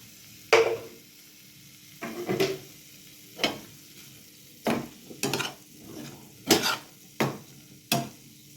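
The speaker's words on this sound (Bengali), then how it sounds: "এবার ভালো করে এই সবজি পুরো ফ্রাই করে নেব।" Vegetables stir-fried in a pan for a mixed-vegetable lentil dish, heard as a series of short scraping stirs with a soft sizzle, about nine bursts spaced unevenly across the clip, close and fairly quiet.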